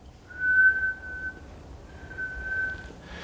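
A person's voice imitates a faint ghostly whistle heard at a reputedly haunted homestead, giving two thin, steady, high whistled tones, each about a second long, separated by a short pause over a quiet background.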